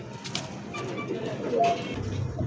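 Red checker racer pigeons coo softly in low, rounded tones under steady background noise, with no clear talk over them.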